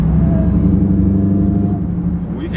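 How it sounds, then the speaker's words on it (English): A Stage 1 Dodge Charger Hellcat making 900 hp roars with a loud, deep exhaust drone at close range, holding a heavy rumble throughout before easing slightly near the end. "We can't even hear the whine because the exhaust so loud."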